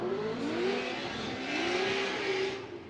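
A Formula Drift car's engine revs hard at the start of a drift run in New Jersey, a loud continuous wail rising and falling in pitch through several surges, with crowd and track noise beneath.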